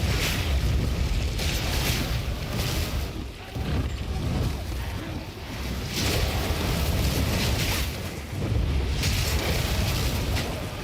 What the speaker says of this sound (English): Oh, I forgot the explosions follow me around